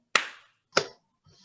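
Two sharp, close hand claps about half a second apart, followed by a brief faint rustle, in an otherwise quiet space.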